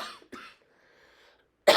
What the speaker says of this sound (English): My cough is still not gone.